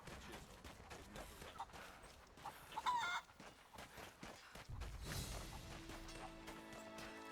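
Chickens in the video game Rise of the Tomb Raider, with scattered clucks and squawks among game sound effects that include a short sharp squawk in the middle, heard against a soft game backdrop.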